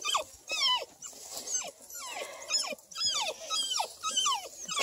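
Six-week-old beagle puppies whimper and yap outdoors in a repeated run of high, sliding whines and short yips, several small voices overlapping close by with no talk.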